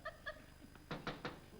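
Three quick knocks on a door land in a tight run, fairly faint, after a couple of short vocal sounds.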